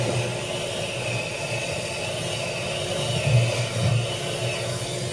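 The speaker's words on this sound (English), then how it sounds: "this is the sound of a vacuum cleaner in the background" A steady, droning motor whir runs continuously, like a vacuum cleaner going in the background, moderately loud and unchanging.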